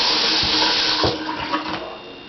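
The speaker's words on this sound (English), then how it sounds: "So we're going to rinse our brush off." Tap water runs steadily into a sink while a paint brush is rinsed between colors, a close, full splashing flow that thins and softens toward the end, with no voices.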